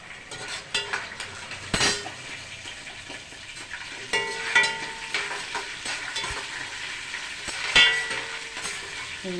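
Mustard seeds, chana dal, urad dal and cumin fry in hot oil while being stirred, with steady sizzling, crackling pops and occasional clinks of a metal spoon against the pan.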